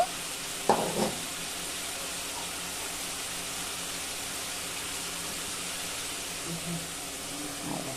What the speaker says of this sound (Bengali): ভাজা ঢ্যাঁড়সগুলো এর মধ্যে দিয়ে দিলাম